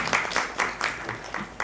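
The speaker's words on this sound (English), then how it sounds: "Can we please give him a big round of applause and welcome him on the stage?" An audience at an Empowered Women event claps to welcome author Amish Tripathi onto the stage, a modest, fairly sparse applause with distinct rhythmic clap bursts rather than a dense roar.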